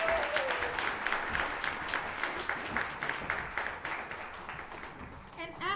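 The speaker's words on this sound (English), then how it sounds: "Will y'all clap for them as they exit?" Audience at a high school choir concert clapping steadily as the singers leave the stage, a broad wash of applause that fades near the end as a voice begins.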